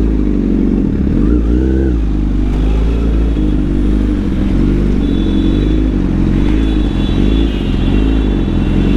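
Honda CBR 1000 sport motorcycle engine riding in heavy traffic, a loud continuous low rumble that rises and falls with throttle, with steady wind and road noise underneath.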